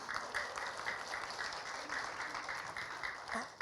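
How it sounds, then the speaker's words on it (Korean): Church congregation applauding steadily during a Sunday worship service, a dense, even patter of many hands clapping at moderate volume with no speech over it. "이 박수를 치려면 좀 확실하게 치세요."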